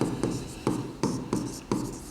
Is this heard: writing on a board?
yes